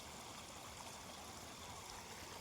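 Water running in a stream near a dam, a faint, steady wash of flowing water with no distinct splashes, continuous throughout.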